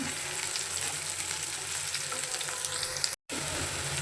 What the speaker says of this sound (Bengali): পেঁয়াজগুলো একটু লাল লাল করে ভেজে নিয়েছি